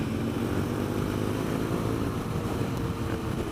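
Steady, muffled engine drone of a stock 2017 BMW R NineT Scrambler motorcycle running at constant speed, a low rumbling exhaust note that stays even and fairly subdued throughout.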